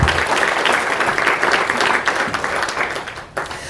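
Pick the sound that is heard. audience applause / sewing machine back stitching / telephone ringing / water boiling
audience applause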